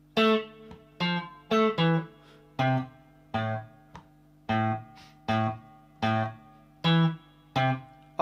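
Electric guitar playing the opening two bars of the Fortnite Floss tune: a slow run of about a dozen distorted, plucked notes in an even rhythm, each ringing briefly before the next, with no voices.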